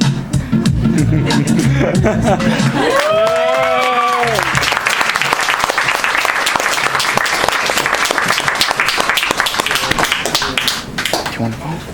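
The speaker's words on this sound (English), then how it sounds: "Once again, a round of applause." Audience applause at an open mic night, loud and sustained crowd clapping across the whole stretch, with a voice briefly rising over it early on.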